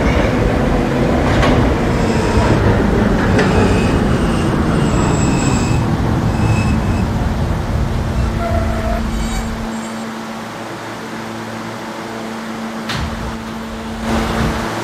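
An R160A subway train runs on a K line in the Roblox PTA game, a steady loud rumble with rail noise that eases partway through and picks up again near the end.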